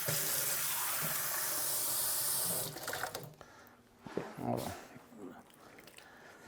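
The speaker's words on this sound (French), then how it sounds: "je mets une tasse d'eau froide dans le mélange" Cold water pours steadily into a bowl of cookie dough mixture for a few seconds, a bright rushing splash that stops abruptly, followed by faint handling noises and quiet talk.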